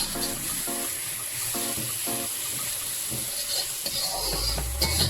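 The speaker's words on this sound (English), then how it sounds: "Now it's time to add ginger garlic paste and fry until you see the ginger garlic paste turns pink." Ginger garlic paste frying in hot oil, a soft sizzle with intermittent scraping and stirring strokes in quick bursts, followed by a louder hiss near the end.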